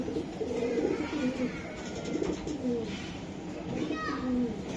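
Pigeons coo repeatedly nearby, soft low rolling calls in a loose rhythm at a pigeon seller's, with people talking over them.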